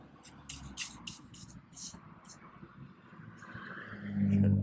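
Several short, close hissing bursts of an aerosol spray can on a hurricane-salvaged 2021 Suzuki 150 outboard boat motor, followed by a low engine rumble rising at the end.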